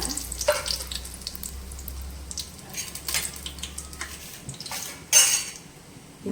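Whole cloves and bay leaf fry in hot oil for a chicken biryani, giving a steady, close crackling sizzle with a few brief clinks of a utensil against the pan and no talking.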